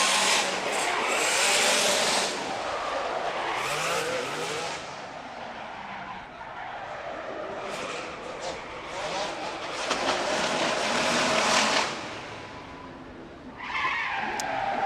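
Engine roar and tire squeal from the Pennzoil Ferrari drift car at a Formula Drift Pro seeding event in Long Beach, loud and sustained with rising and falling revs and a crowd or commentary backdrop.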